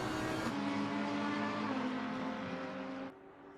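An R8 race car engine roars downhill at Mount Panorama in a sim race, a loud, sustained engine drone with a shifting pitch that cuts off abruptly near the end.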